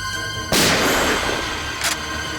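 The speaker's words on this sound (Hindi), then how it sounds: "गोली चला" A single loud gunshot bursts out sharply, followed by a brief echoing tail and a fainter second crack a moment later.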